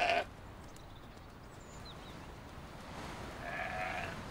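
Soay sheep bleating outdoors on St Kilda in the Hebrides, a loud call at the very start and another fainter bleat near the end, with quiet wind and field ambience between.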